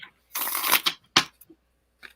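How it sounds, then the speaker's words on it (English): A tarot card deck is shuffled by hand: a dense riffling burst followed by a few shorter shuffles and soft card taps, close and alone. "So let me give my deck a good shuffle."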